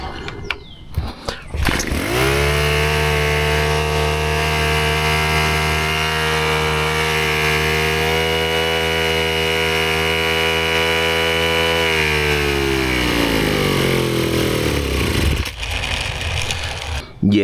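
A Ryobi S430 four-cycle string trimmer with a suspected carburetor problem starts up and runs at a high, buzzing, steady whine for about ten seconds, then its pitch sags as it bogs and cuts out.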